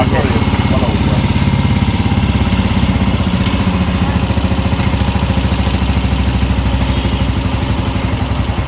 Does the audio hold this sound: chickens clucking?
no